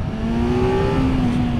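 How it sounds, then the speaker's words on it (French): A 2025 Kawasaki Z900 four-cylinder motorcycle engine with a discreet exhaust gives a loud, steady, close drone, its pitch climbing slightly as the revs rise and then holding. "je vous laisse écouter la sonorité de ce 4 cylindres Kawa"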